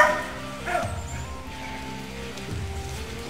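A hunting dog bays and yelps while chasing a ram in Texas brush, with drawn-out, repeated cries at moderate distance over a faint rustling background.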